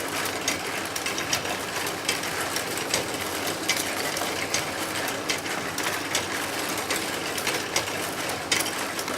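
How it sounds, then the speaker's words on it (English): An electrically powered scale-model power baler runs steadily with a busy mechanical clatter and fine ticking of small gears and moving parts, close and even throughout with no talking. "the baler over there is a power baler"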